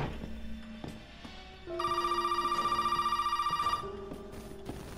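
A telephone rings inside a video game, a steady electronic trill sounding clearly for about two seconds over quiet game music and effects.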